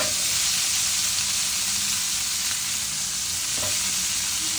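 Shallots and garlic fry in oil for an okra and brinjal curry, giving a loud, continuous close-up sizzle with a faint stir or two underneath.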